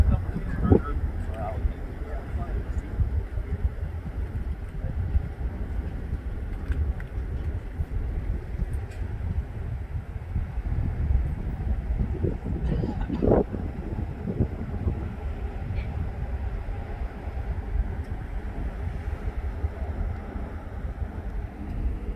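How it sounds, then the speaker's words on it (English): Wind buffeting an outdoor microphone near a cordoned-off crime scene in a store parking lot, a constant low rumble with occasional stronger gusts throughout. "Sorry, it's a little windy out here today."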